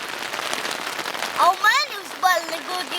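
Steady rain patters in the mountains while a person speaks briefly over it, the hiss of falling drops continuous throughout.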